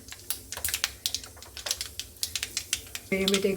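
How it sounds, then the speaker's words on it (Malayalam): Mustard seeds pop in hot oil while a lemon and ginger dish is being tempered, giving a run of sharp, close, irregular crackles with a brief steady hum near the end. "കടുക് പൊട്ടി കഴിയുമ്പോഴത്തേക്കും"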